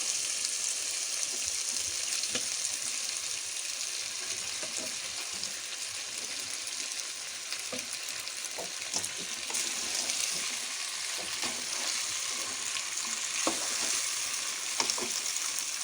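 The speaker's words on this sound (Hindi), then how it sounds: "अब मैं इसमें मैकरोनी डाल दूंगी।" Boiled macaroni tossed with chicken and vegetables in a hot pan, frying with a steady close sizzle and scattered scraping clicks of stirring throughout, no voices.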